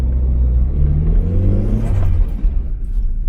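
A Toyota Starlet engine pulls under way, a loud rumbling drone climbing in revs over a few seconds and then easing off, with no talk over it.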